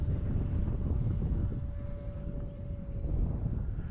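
Strong wind buffeting the microphone at an RC flying field, with a steady low roar and a faint distant hum of a small electric model plane's motor above it.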